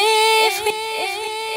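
Sustained tone fed through an Ableton Live delay effect at 95% feedback, repeats piling up into a smeared, continuous wash that barely decays.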